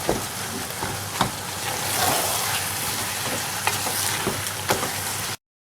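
Minced meat keema fries in a pan while being stirred, giving a steady close sizzle broken by scraping spoon strokes and light clatter, with no voices, before cutting off abruptly.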